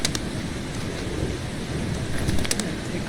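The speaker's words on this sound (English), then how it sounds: "This is quite the storm." Steady rain with low thunder rumbling during a storm in the video game Eastshade, a continuous moderate hiss with a few sharp patters and no voices.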